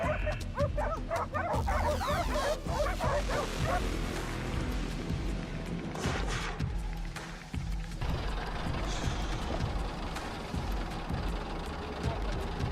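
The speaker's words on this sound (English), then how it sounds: "Nearby, barking grew louder. Dogs had cornered another one in a bush." Hunting dogs bark at a wild boar cornered in a bush, a loud burst of rapid overlapping barks and yips early on, then scattered barks over a low engine idle.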